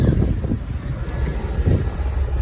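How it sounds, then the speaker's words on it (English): Low, steady rumbling wind buffeting a microphone, a continuous muffled roar with gusty swells throughout. "it's starting to get windy out."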